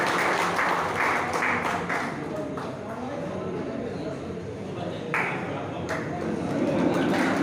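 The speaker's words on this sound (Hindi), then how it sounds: "भाई ताली बजाकर जोरदार स्वागत करें" An audience claps to welcome guests at a pigeon club prize distribution event in Lucknow, a steady wash of applause with faint voices and background murmur underneath.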